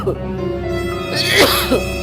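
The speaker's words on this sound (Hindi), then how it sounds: "अरे खांसी हो रही।" A single rough cough or throat-clearing rises over a steady background hum, loud and close, without clear speech.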